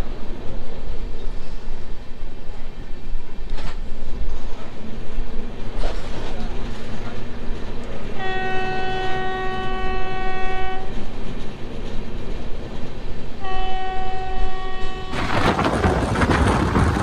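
The Kumbha Express rumbles along with a loud, continuous rolling roar, and its two-tone horn sounds twice in long sustained blasts, followed by a burst of louder rushing noise at the end.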